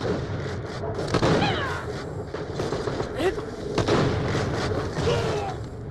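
Gunfire from the shooter video game Borderlands The Pre-Sequel, a dense, continuous run of loud shots and booms with game sounds layered over it for the whole stretch, mixed in with voices.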